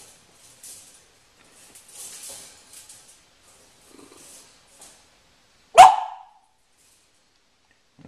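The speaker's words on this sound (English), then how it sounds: "That's our dog." A dog gives one sharp, fairly loud bark, alone after several seconds of faint, scattered background sounds in a workshop where foam is being poured into a mold.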